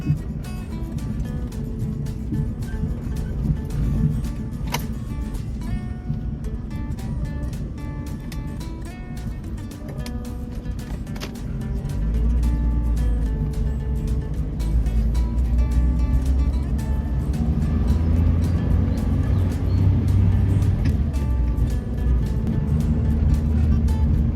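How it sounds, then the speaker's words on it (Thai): Used rear-wheel-drive Mitsubishi Lancer pulling a U-turn and then accelerating, its engine a steady low drone that swells louder and deeper partway through as the revs climb, heard from inside the car without talk. "ขอกลับรถแป๊บนึงนะอัตราเร่งดีนะครับ"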